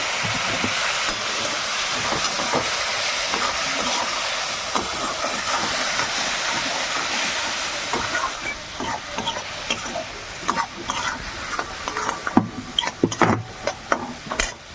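Spice masala for a pumpkin and potato curry hisses and sizzles steadily in a hot pan after a splash of water, with scraping and stirring clatter growing more frequent toward the end.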